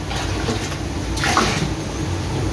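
Hot water is poured into rice for kacchi biryani, a steady close splashing gush that swells slightly midway, with no talk over it.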